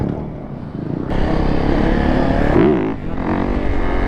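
A Yamaha YZ85 two-stroke dirt bike engine revs loud and close in a busy lot, holding a raspy buzzing drone that climbs and dips briefly before settling again.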